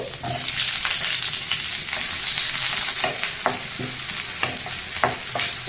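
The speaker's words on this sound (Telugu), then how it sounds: "ఆయిల్ వేడైందండి ఇప్పుడు ఒక మూడు ఉల్లిపాయలు తీసుకోవాలండి తీసుకుని ఇలా కొంచెం పెద్దగా కట్ చేసుకుని వేసుకోవాలి" Three coarsely cut onions fry in hot oil in a pan. A loud, dense sizzle runs continuously with occasional stirring scrapes and clicks, and no one talks.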